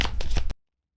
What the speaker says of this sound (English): I just want to pull cards to see what the energy is around Donald Trump using my signature oracle today